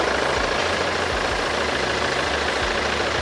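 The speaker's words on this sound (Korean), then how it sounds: "그리고 엔진 소리 일정하고 좋습니다." A 2.2-litre diesel Kia All New Sorento 4WD idles steadily with a low, even rumble and a faint rhythmic knock, continuous and close, with no voices.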